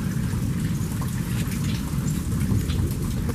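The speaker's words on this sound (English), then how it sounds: "Listen to that tornado whistling." Steady roaring wind and rain from a nearby tornado, a dense continuous wash of noise with no pauses and no voices.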